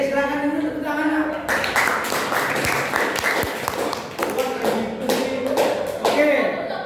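A class of students clapping their hands together, a dense run of claps and taps that rises and falls over several seconds, with some voices talking through it.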